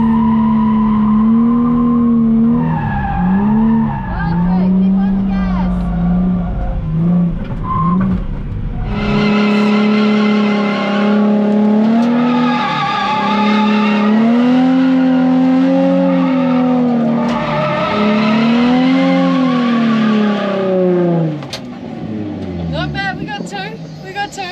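A car drifting through donuts and figure eights on a track, with a loud, continuous revving engine and sustained wavering tire squeal that rises and falls over the full stretch.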